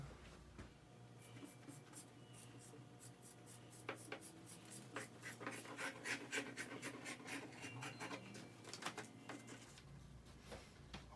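Sharp scissors snip through animal hide in a drum-making workshop, a run of quick, crisp cuts that grows denser midway, close and fairly quiet over a low steady hum.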